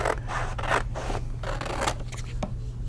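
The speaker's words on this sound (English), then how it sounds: "I know it's exciting watching me cut the paper" Scissors cut through paper in several close, crisp snips and slicing strokes, each a short rasping burst separated by brief pauses, with no talking.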